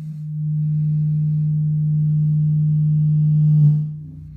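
A Eurorack oscillator waveform fed through a mixer with the gain turned down gives a steady, clean low hum, holding level for a few seconds and then fading out at the end, with no voices.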